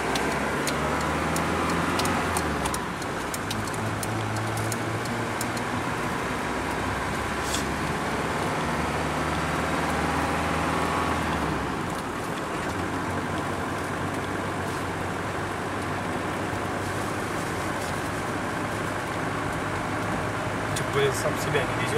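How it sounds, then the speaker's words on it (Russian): A Mercedes car driving through town in minus 40 degree frost, with a steady low engine drone and road rumble, interior ambience and faint ticking throughout, loudness dipping slightly midway. "Катаемся мы сегодня вот на таком мерседесике."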